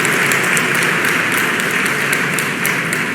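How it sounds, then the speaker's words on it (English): A live debate audience at a Politicon event bursts into loud, sustained applause, a dense wash of many hands clapping that holds steady for a few seconds with no voices on top. "On certain issues, you got a huge clapping for Anne."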